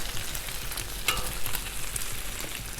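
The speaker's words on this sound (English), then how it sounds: "Let's get that sausage down." Sausage fries on a greased Blackstone flat-top griddle with a steady, close, dense sizzle and crackle throughout, and no voices.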